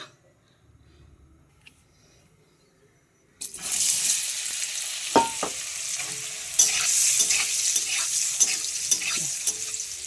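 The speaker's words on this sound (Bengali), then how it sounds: "একটু হলুদ দিয়ে পনিরটা ভেজে নিব।" Paneer fries with turmeric in oil in a kadai, a bright crackling sizzle that bursts in suddenly after quiet and continues steadily, with occasional clinks of a spatula stirring.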